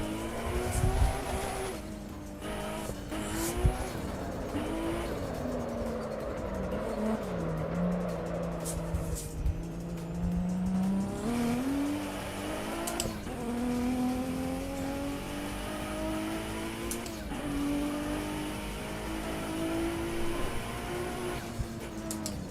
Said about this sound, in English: The car wants to power slide, and then it wants to come out of the drift really aggressively